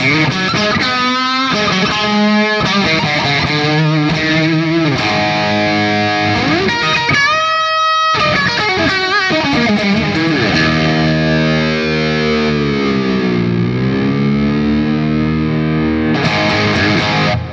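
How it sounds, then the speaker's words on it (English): Heavily distorted electric guitar through a Nux Mighty Air amp's distortion channel, Friedman-style, playing loud sustained chords and bending notes, thick and saturated, with a brief pause midway before ringing out again. "let's move on to the distorted channel"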